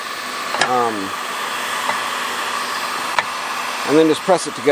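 Heat gun warming a Husqvarna 365/375 chainsaw crankcase, a continuous airy hiss running close throughout, with someone talking over it at the start and again near the end, plus a few light clicks.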